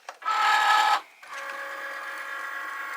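A Cricut cutting machine loads its cutting mat with a short, loud whirring motor burst, a pause, then a quieter steady mechanical hum as the carriage moves, close and without talk.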